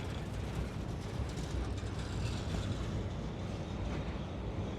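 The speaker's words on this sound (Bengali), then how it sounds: "আমরা এখন দিলপাশার রেল সেতু পার হচ্ছি" A passenger train crosses the Dilpasha rail bridge over Chalan Beel, heard from inside as a loud, steady low rumble with wind noise and no distinct breaks.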